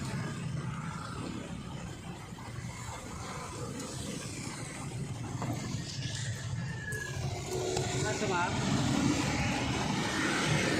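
Motorized tricycle ride, a continuous low engine rumble and road noise that grows slightly louder toward the end, with people talking over it throughout.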